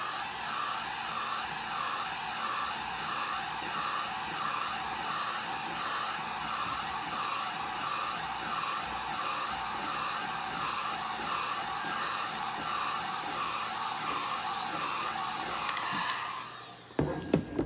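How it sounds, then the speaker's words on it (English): Heat gun blowing hot air steadily over an epoxy and acrylic marble tumbler, a continuous loud whooshing hum with a faint wavering whine that holds evenly before cutting off with a few clicks near the end. "now I'm just going to take my heat gun and give it a little bit more heat than I've been giving before."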